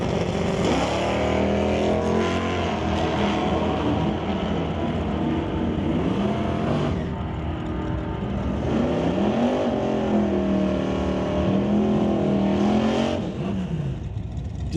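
Revving, accelerating engines of a 1970 Chevelle and a Ford Mustang on a drag strip, loud and sustained with rising and falling pitch as the cars pull away.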